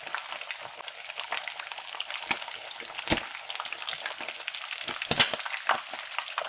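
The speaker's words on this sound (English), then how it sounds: "be careful when you're frying, because this is just popping up" A tilapia fillet fries in hot oil with a dense, steady sizzle. Sharp pops and crackles burst through it now and then, close up, and no one speaks.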